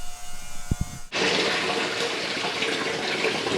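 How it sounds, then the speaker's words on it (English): During an aquarium water change, water starts spraying back into the tank with a sudden onset, becoming a steady, loud rushing hiss after a brief quiet lead-in with a couple of small clicks. "Spraying the water back in the tank."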